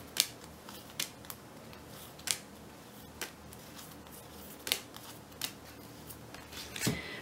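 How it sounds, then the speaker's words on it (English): Tarot cards shuffled by hand during a reading, giving irregular sharp snaps and riffling flicks spaced a second or so apart over a quiet room hiss, with no speech. "So let's just give another couple of shuffles."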